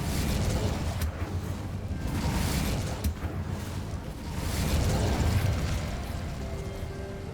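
A fire spell cast in the video game Hogwarts Legacy, a loud, dense roaring burst with crackling booms that swells and fades over several seconds, with no voices.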